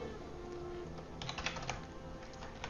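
Quiet, rapid clicking of keys on a computer keyboard, an uneven typing rhythm close by with no voices.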